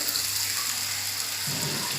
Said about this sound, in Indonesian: Kita akan tambahkan air